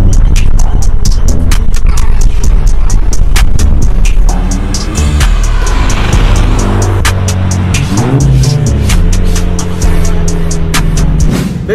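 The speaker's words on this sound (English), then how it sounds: "This car does sound really good." A Volkswagen GTI or Toyota GR86 fitted with aftermarket downpipes accelerates hard on a highway, its loud engine roar and rising revs cut by sharp clicks and pops, with passing traffic audible.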